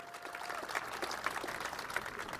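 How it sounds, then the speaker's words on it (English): Audience at a Smithsonian event greeting Space Shuttle Discovery astronauts, a crowd cheering and clapping steadily and evenly at moderate distance throughout. "now if you're going to cheer for one of them, you have to cheer for all of them"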